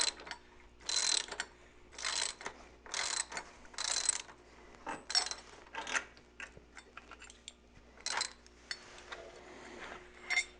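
A ratchet loosens the top shock bolt on a Harley Dyna, giving a series of quiet metallic clicking bursts in an uneven rhythm, close and alone with no talk.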